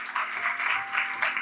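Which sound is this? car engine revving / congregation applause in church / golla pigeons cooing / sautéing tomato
congregation applause in church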